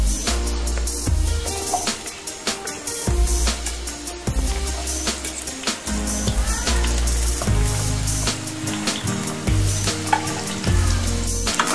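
Onion hitting hot oil in a heated kadhai, a loud, close, crackling sizzle with repeated stirring scrapes and clatters running throughout.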